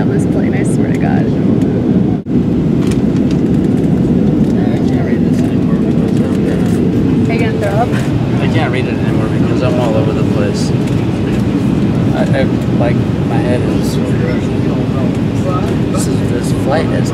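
Airplane cabin noise on a short commercial flight from Sacramento to Los Angeles, a constant loud engine and air rush filling the whole span beneath people talking.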